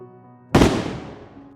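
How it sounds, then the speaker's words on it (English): A single sharp gunshot cracks through the silence of a night, a sudden loud report that rings out and decays over about a second above faint low background hum. "the silence of the night suddenly broken by gunfire"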